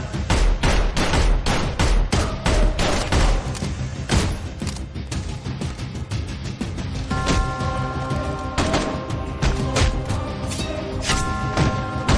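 Loud gunfire in a Hindi thriller film, a relentless rapid burst of shots and heavy thuds cracking close for about twelve seconds, with brief tonal music entering partway and no clear speech.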